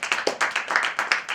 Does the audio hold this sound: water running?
no